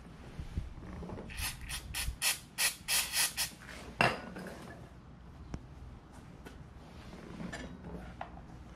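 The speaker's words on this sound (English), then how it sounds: "you do wanna clean off all the gunk around your pistons as well. So I'm gonna do that now with a rag and some brake cleaner" A rag with brake cleaner is rubbed around the brake caliper pistons of a third-generation Suzuki SV650 motorcycle. The scrubbing comes as a burst of short, close rasping strokes, then fainter intermittent rubbing.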